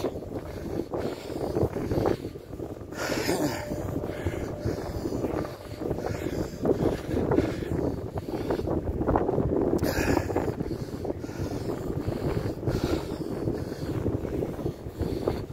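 Gusty wind buffets the microphone outdoors at Harborough Rocks on a cold day, a steady broad roar with stronger rushes throughout, loud and close, with no voices.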